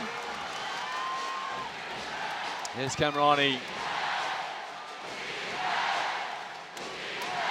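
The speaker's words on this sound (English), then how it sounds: "The crowd erupts." A basketball arena crowd roars and cheers during the FIBA Asia Cup 2013 final between the Philippines and Iran, a sustained wash of noise under a commentator's voice, with a brief louder shout near the middle.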